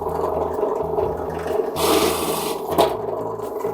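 A machine boring 35 mm round hinge holes into a sink cabinet door hums steadily, with a louder, brief gritty cutting burst in the middle.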